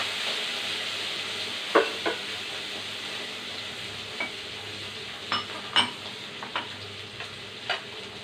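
Garlic fries in hot oil after mustard seeds have popped, a steady close sizzle with scattered crackles and a few light ladle taps against the pan, no voices.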